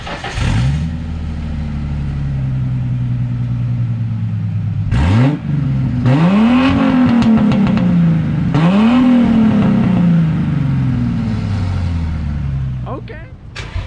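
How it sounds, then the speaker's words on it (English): A 2015 Ford Mustang's exhaust revving loudly up close, with several sharp throttle blips rising and falling over a steady idle rumble, ending in a brief pause and a final short burst. "we'll do a little exhaust clip for you"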